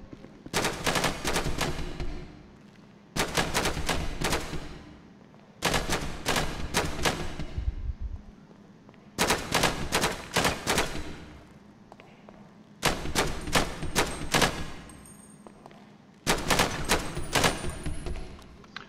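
Six bursts of rapid gunfire at weapons training, each volley a tight cluster of loud sharp shots aimed at targets, separated by pauses of about a second, with no talking.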